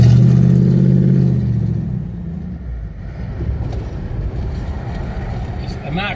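A Lincoln Continental Mark III classic American car's engine accelerating, a deep rumble that swells at first and then settles into a steady drone as the car drives on, with someone talking over it.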